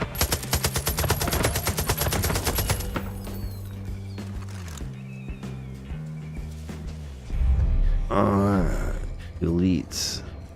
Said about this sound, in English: Get my machine gun out.